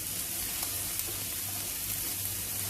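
Green chilli and capsicum sizzle and fry in a pan for a Spanish omelet, giving a steady, close hiss with faint stirring under it and no voices.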